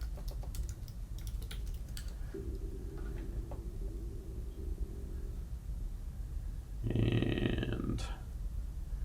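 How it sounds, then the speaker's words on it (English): Typing on a computer keyboard while installing R, a quick burst of light key clicks followed by a short pause and a few more taps, faint and close under a steady background hum. "I'm going to type my password."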